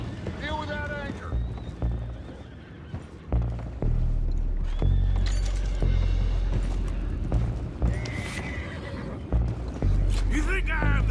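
Horses whinny and neigh repeatedly in a Red Dead Redemption 2 game scene, with hooves clip-clopping and loud splashing and rumbling around them while voices shout over the commotion.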